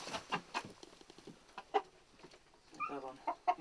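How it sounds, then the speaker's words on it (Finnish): Domestic hobby chickens, native breeds rather than factory leghorns, cluck softly and intermittently in a farm setting, with short separate calls and a burst of clucking near the end, fairly quiet and close. "Tämmönen harrastekana tosi hyvä."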